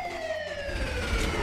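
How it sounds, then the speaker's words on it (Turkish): A police car siren wails in the Minecraft video game, one long falling tone sweeping down over a low rumble, steady and fairly loud with no talking. "Siren sesleri geliyor."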